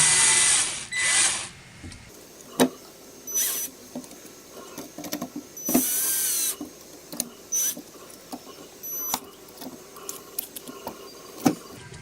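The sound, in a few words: screws being tightened to mount the RB3 mainboard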